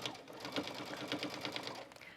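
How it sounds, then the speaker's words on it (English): A sewing machine stitching a seam on a denim shirt dress cuff, a fast steady mechanical whir with regular needle ticks, close but quiet, running throughout. "I'm just going to the sewing machine, and I'm going to stitch whatever your seam allowance is for your pattern"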